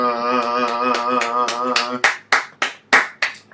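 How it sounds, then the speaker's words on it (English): At a stand-up comedy show, a voice is followed by about five sharp, separate claps from a small audience, evenly spaced and fairly close. "Another round of applause for Phil Johnson."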